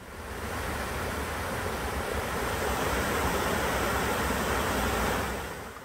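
Heavy rain has swollen a valley stream at a forest recreation area near a sabo dam. Its water roars in a steady, loud, unbroken rush that holds close and constant throughout, with no voices.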